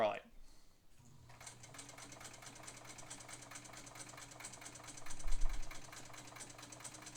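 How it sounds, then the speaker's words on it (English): A sewing machine runs steadily, stitching slowly with a fast mechanical needle clatter and a low motor hum, starting after a short pause and continuing close and fairly loud throughout. "so let's see what it does when we ask it to sew a stitch"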